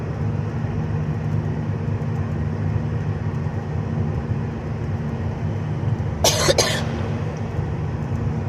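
A single cough bursts out near the end over a steady low rumble, apparently from a vehicle interior during a sightseeing trip.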